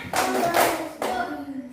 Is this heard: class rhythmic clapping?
yes